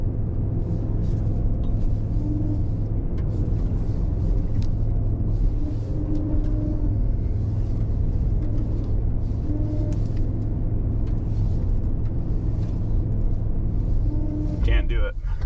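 A 2021 Cadillac Escalade runs at full throttle on an off-road line with a front wheel lifted, its engine a steady low rumble heard from inside the cabin, with a brief knock near the end.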